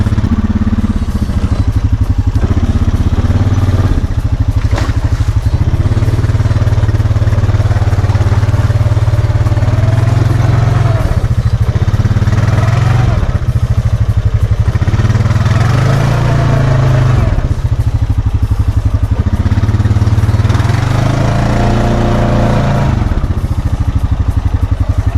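A Honda Foreman ATV on Outlaw 2 tires rides in 4-wheel drive, its mid-pitched engine loud and close, revving up and easing off with some rattling clatter.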